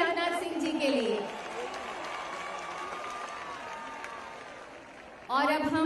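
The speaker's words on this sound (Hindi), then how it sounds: "एक बार जोरदार तालियां माननीय गृह मंत्री श्री राजनाथ सिंह जी के लिए।" A large outdoor crowd at a Run for Unity event applauds the Indian home minister, steady clapping and cheering filling the air while a voice speaks over it at the start and end.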